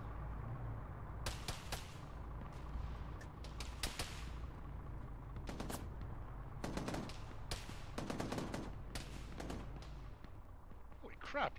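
Gunfire in the military game Arma, scattered bursts and single sharp shots at varying distances, some loud and close, with voices speaking intermittently between the shots.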